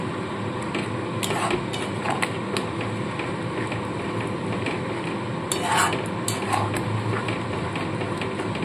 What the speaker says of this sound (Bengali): ভালো করে এবার মশলার সাথে চিকেনের সাথে একদম মিশিয়ে নেবো